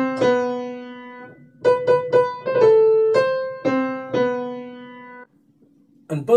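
Tardis dematerialization theme from Doctor Puppet, emulating the Doctor Who theme tune: a synth melody of short plucked notes and one held tone, ending in a pause and a brief final burst.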